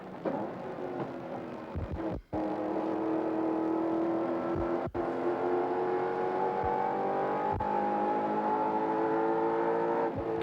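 Alan Grice's number 16 touring car howls around the Bathurst 1000 circuit in a 1990 race, a loud, steady engine drone with rising harmonic tone that carries on without pause apart from two brief cuts.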